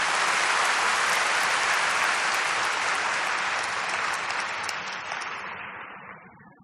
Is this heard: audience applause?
yes